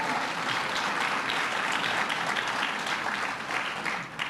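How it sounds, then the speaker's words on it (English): An indoor audience at a Nassau County governor's budget address bursts into sustained applause, a dense, even wash of clapping that holds steady for several seconds before thinning slightly at the end. "Let's give him a round of applause, President Rabinowitz."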